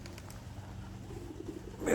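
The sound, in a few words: young birds let out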